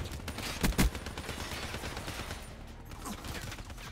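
A Man of War rifle fires in the video game Black Ops 3, a quick pair of punchy shots up front, then a steady rattle of gunfire and game noise.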